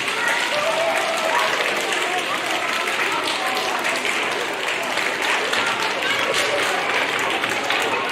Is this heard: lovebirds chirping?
no